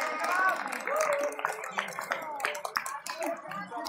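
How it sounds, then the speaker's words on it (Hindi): An audience claps to welcome guests at a Ramlila stage performance of the Garhwal Sabha. The scattered claps sound under amplified talk and tonal sounds. "तो तालियों से स्वागत कीजिए।"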